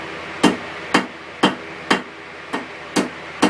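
Hammer blows forging a steel leaf from round stock on an anvil, seven sharp metallic strikes at an even pace of about two per second, close and loud, with no talk.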